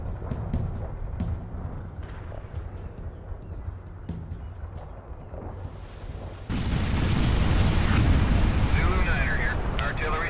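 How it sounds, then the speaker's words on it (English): Artillery precision strike in the World in Conflict: Soviet Assault strategy game, a continuous rumbling barrage of booms and blasts that swells sharply louder about two-thirds through, with faint talk underneath. "Let's use a precision strike. There we go. That's what that's for. Artillery firing."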